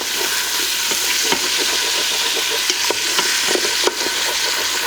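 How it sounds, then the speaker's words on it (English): Onion and sausage sauté in an Instant Pot liner pot, a loud steady sizzle under repeated scraping stirs and occasional sharp clicks of the utensil against the metal bottom, close up with no speech. "Now we'll let the onion saute and caramelize"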